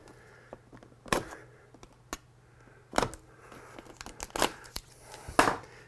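Plastic sheeting being cut and torn around an electrical box during insulation work in a kitchen renovation, a series of close, irregular crinkling rips and sharp crackles with quiet pauses between bursts.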